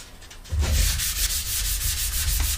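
Dry sanding of a skateboard with 320 grit sandpaper gives a close, steady rasping rub that begins abruptly after a quiet moment and continues in repeated strokes.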